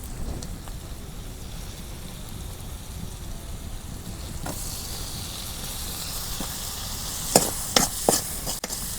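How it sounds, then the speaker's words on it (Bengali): Dried hilsa fish fried and stirred in a spice paste of oil and turmeric, giving a steady soft sizzle throughout with scraping stir strokes and a few sharper clinks near the end. "এখন আবার মশলার মধ্যে আমি ভালো করে ভাইজা নিতেছি শুটকি মাছগুলো।"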